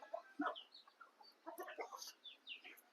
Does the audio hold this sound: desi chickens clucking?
yes